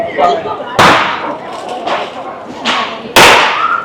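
Firecrackers bursting at a Lunar New Year parade in New York City, three or four sharp, loud cracks spaced irregularly over a steady crowd murmur, each one with a brief ringing echo off the street.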